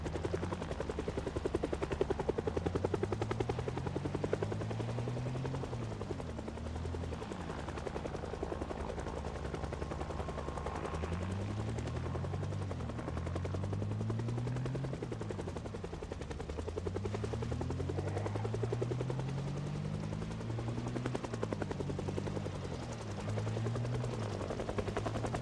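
A helicopter in the video game Project Zomboid thrums overhead with a steady rotor chop, its pitch sweeping up and down in repeating waves as it passes, heard alone without talk for the whole stretch.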